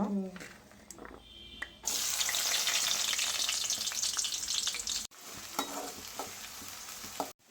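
Onions frying and browning in a pan, a loud broadband sizzle that bursts in after a quieter start and holds steady, briefly cutting out then returning softer with faint clinks.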